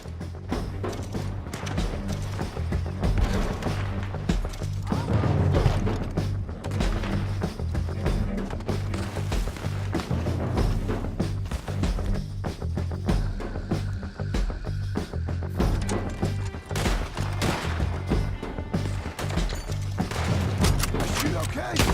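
Bursts of gunfire and booms ring out continuously in Red Dead Redemption 2, loud and dense throughout, with game dialogue and voices mixed in over the shooting.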